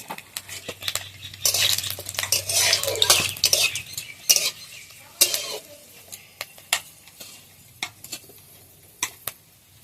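Whole garam masala, dried red chilli and bay leaves temper in hot mutton fat for ghugni. A loud crackling sizzle at first settles into quieter frying, broken by sharp metal clinks and scrapes of stirring against the pan.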